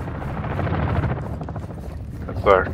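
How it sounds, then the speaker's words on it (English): Chopper gunner helicopter firing in the video game DMZ, a steady rotor-like drone with low rumble throughout, ending in a brief sharper burst near the close. "That's our chopper gunner"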